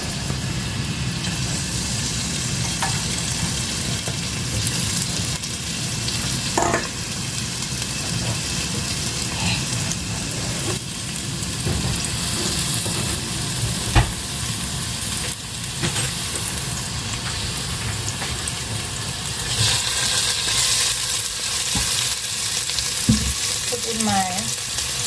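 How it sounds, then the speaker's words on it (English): Onion sizzles and fries steadily in hot oil in a pan for meat pies, a continuous crackling hiss with occasional stirring clinks and no talking. "The first thing I have to put in my oil is I have to put in my onion."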